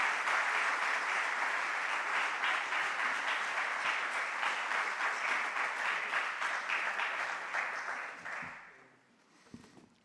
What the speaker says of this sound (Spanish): yo voy a pedir un aplauso grande para José María Fernández